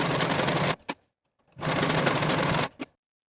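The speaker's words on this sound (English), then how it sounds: "you can finish those seam allowances together using a zigzag stitch or your serger" A sewing machine runs a zigzag stitch to finish seam allowances, in two close, rapid mechanical bursts of about a second each. A short pause falls between them, and each burst ends with a quick clack.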